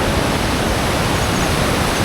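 At the mountain confluence of the Dhauliganga and Alaknanda rivers, fast water rumbles in a dense, constant wash of noise, close and loud, with no talking.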